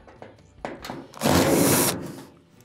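Screws being removed from the panel of an Amana dryer with a power tool, giving a few short clicks followed by one loud buzzing burst of driver whir that fades, close up with no talking.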